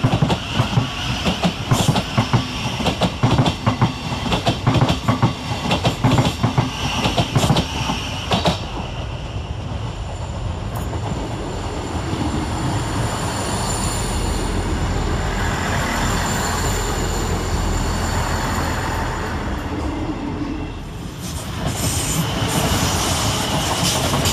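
South Western Railway trains move through Clapham Junction station: loud wheel squeal and rhythmic clickety-clack of a passing train at first, then a long rumbling roll of railcars with high metallic screeching, close and steady.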